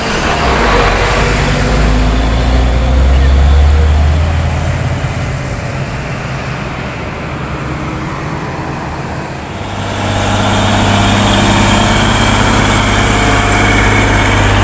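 A Hino truck engine idling, a loud, close, steady low rumble that dips slightly partway through, then settles back to a constant drone, with no talking.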